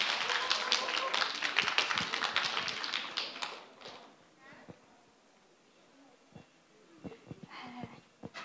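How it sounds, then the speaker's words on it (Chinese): A crowd at Southern University of Science and Technology in Shenzhen claps in a dense burst, welcoming Peking opera club students on stage. The clapping fades after a few seconds into scattered taps and voices. "掌声有请京剧社的同学们上来学一段"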